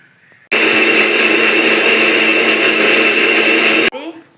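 A mixer grinder whirs loud and steady, grinding spice paste for sambar, starting abruptly and running for about three seconds before cutting off, with faint sounds after it stops.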